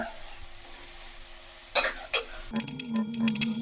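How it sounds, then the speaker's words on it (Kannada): Egg roll filling frying in a pan, with quiet sizzling that gives way to a few sharp scraping stirs and then steady, louder sizzle and clatter near the close. "ಸ್ವಲ್ಪ ಇದೆಲ್ಲ ಈಗ ಫ್ರೈ ಆಗಬೇಕು"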